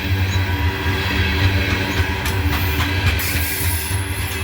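A CSX coal train hauled by an SD70 locomotive rolls past in Abbeville, a steady loud rumble of wheels and cars with rhythmic clacking, heard alone.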